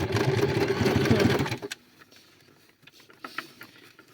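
A sewing machine stitches seams on a homemade bicycle bag, running loud and steady for about a second and a half before stopping, then faint handling clicks follow.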